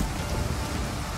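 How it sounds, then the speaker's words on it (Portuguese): Rain falls across a battlefield in the strategy game Total War: Pharaoh, heard as a soft, even hiss of rainfall that runs steadily through the short moment with no voices. "A chuvarada realmente muda a visibilidade do campo de batalha"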